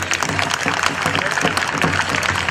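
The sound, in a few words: round of applause for students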